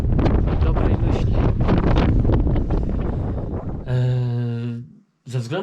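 Gusty wind buffets the microphone on a mountain trail in October, loud and continuous with rough bursts, followed by a sustained tonal whistle-like sound and a brief silence before another burst.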